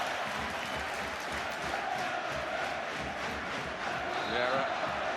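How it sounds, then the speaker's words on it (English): A large football crowd at a Charlton Athletic home playoff semi-final against Swindon Town roars and cheers steadily in a dense, continuous wash of noise, with commentary speech faintly mixed in. "Crowd trying to encourage Charlton to maintain their excellent work rate"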